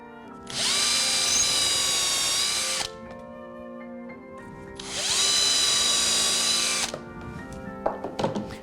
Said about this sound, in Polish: Wiercę cztery otwory w takim rozstawie, jaka jest średnica gąbki, żeby ją łatwo przymocować.